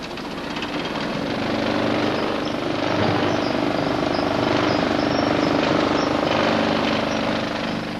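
Foundry sand slinger hurling backing sand into a sand-casting moulding box, a loud continuous rumbling roar with gritty rattling texture that swells after the first second and holds steady.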